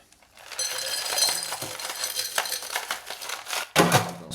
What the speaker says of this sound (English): Let's ice down our glass.